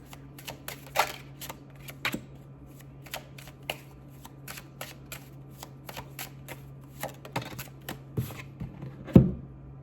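Oracle cards being shuffled by hand, a quick run of crisp papery flicks and riffles with brief pauses, close and fairly quiet, one sharper snap near the end, no talking.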